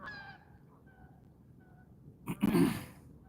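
Geese honking outdoors near a flowing stream, a short loud burst of calls late in the clip after faint distant calls earlier, with no talk over it.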